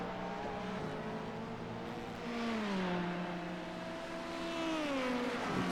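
Race cars in a sprint car racing video game, several engines droning and shifting pitch as the cars pass and accelerate, a steady layered whine with overlapping tones, no talking.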